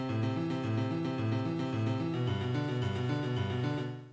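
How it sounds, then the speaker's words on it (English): A synthesizer plays rapid repeating notes that climb and fall through a chord in a steady, even pattern, fading out at the end. "I can also turn things into an arpeggio."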